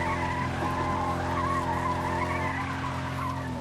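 Car tires skidding in the Fortnite video game, a sustained squealing screech over a steady engine drone, fairly loud and unbroken for a few seconds.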